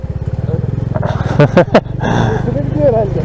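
A Bajaj Dominar 400 motorcycle engine thrums low and steady while riding off-road near a high-altitude pond, with a rider talking and exclaiming over the running motor.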